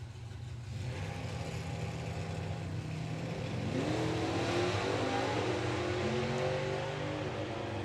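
Two 383 cubic inch drag racing cars, one a Dodge, launch down a drag strip with a loud, continuous engine roar that builds and rises in pitch as they accelerate.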